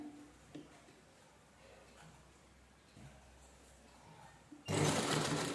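A sewing machine stitching folded fabric: faint short bursts of mechanical whirring and ticking at first, then a sudden loud, continuous run of stitching near the end, heard close with no talking.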